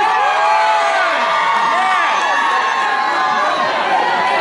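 Audience at a live concert at The Echo screams, whoops and cheers loudly, a sustained wall of high shrill voices rising and falling over several seconds.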